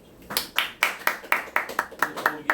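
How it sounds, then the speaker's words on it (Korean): An audience at a company presentation in Seoul claps in a steady, evenly spaced rhythm, about ten crisp hand claps heard close and alone. "여러분 살짝 박수 한번 좀."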